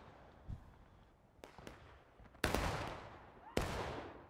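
Musket volleys in the Civil War video game War of Rights: scattered distant pops followed by two loud, close cracking shots about a second apart, each trailing into a rumbling echo, with no talk.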